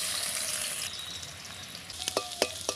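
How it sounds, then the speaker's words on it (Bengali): Finely chopped onion frying in hot oil in a kadai until reddish-brown for birista, with a steady loud sizzle that softens midway, then a few sharp clinks of a spatula against the pan near the end, with no voices. "পেঁয়াজের বেরেস্তাটা লাল লাল ভাজা হয়ে গেছে"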